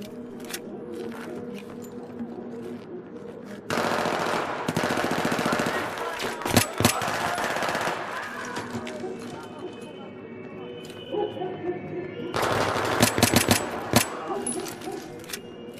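Bursts of machine-gun and rifle fire in the video game Battlefield 3, in repeated loud volleys with pauses between, while players talk in Polish over the shooting.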